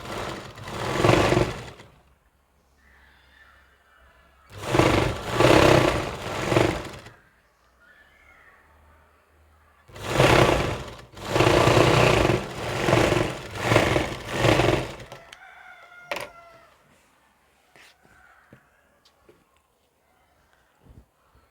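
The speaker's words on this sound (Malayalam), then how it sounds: "നമുക്ക് ഇതുപോലെ രണ്ട് സൈഡും സ്റ്റിച്ച് ചെയ്ത് കൊടുക്കണം ഇനി നമുക്ക് താഴെ അറ്റത്തൊന്ന് മടക്കി തയ്ച്ചു കൊടുക്കാം" A sewing machine stitches churidar fabric in loud, close bursts of rapid whirring, four runs of a few seconds each separated by quiet pauses, ending with faint handling clicks.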